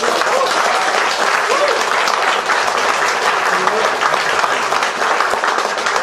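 At the opening of a gadulka players' gathering in Kalofer, Bulgaria, an audience applauds the honoured organiser and musician with dense, continuous clapping that stays loud and even for about six seconds.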